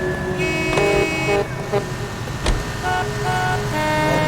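Car horns honk in a few short toots over steady traffic noise, loud and close, in the video game L.A. Noire.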